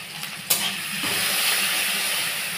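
Chopped tomatoes with a pinch of salt fry in a pan for a mustard papda fish curry, giving a steady, close, broadband sizzle that holds throughout, with a sharp brief burst early on and no voices.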